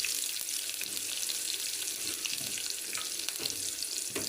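Chopped onions frying in hot oil for a Sri Lankan-style brinjal and anchovy stir-fry, a steady broadband sizzle with faint scraping and watery crackle throughout, no voices.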